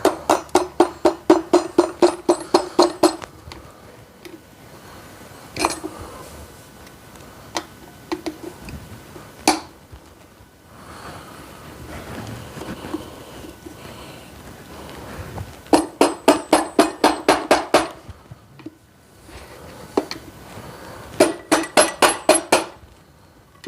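A mallet striking a screwdriver to break apart an Insinkerator garbage disposal, loud rapid bursts of sharp metallic taps in clusters separated by quieter pauses and scattered single knocks.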